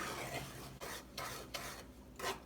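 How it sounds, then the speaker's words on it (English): A spoon stirs sugar and evaporated milk together off the heat for holiday fudge, making soft scraping sweeps in a loose rhythm broken by short quiet gaps. "Going to just mix that off the heat."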